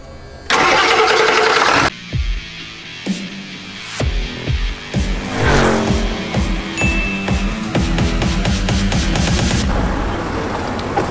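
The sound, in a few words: 1997 Ford F-350 engine starting, loud and clanking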